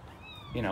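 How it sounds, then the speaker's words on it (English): A cat yowls loudly near the end of a short stretch, close by in a garage where a 2018 Jeep Grand Cherokee is being wired for trailer lights, with someone talking just before. "Apologies for the cat screaming."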